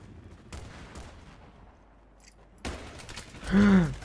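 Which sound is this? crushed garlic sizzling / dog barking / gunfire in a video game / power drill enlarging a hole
gunfire in a video game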